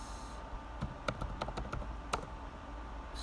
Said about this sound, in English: You can go start typing on Google that